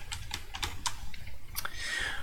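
Computer keyboard typing, a quick irregular run of clicky keystrokes of moderate loudness, close by, with a steady low hum underneath and no speech.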